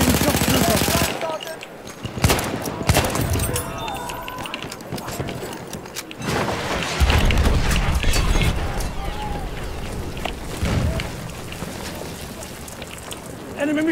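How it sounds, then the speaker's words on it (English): Machine gun fire in the Battlefield 1 video game: rapid bursts of automatic gunfire and scattered shots over a dense, noisy battle din, loud and close, with voices mixed into the chaos. "Enemy machine gun sighted."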